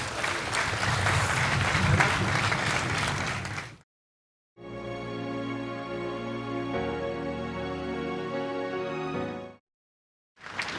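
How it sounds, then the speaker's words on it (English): Loud audience applause fills the hall at the Egbin power plant commissioning, a dense burst of clapping that stops, then a second long round with a steadier, rhythmic texture before it fades. "A resounding applause for yourselves"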